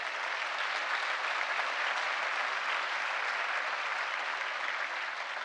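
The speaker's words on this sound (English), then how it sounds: "Let's give them a round of applause tonight" Sustained applause from a town hall audience about the BQE highway, a dense, steady roar of many hands clapping at even loudness throughout, with no voices standing out.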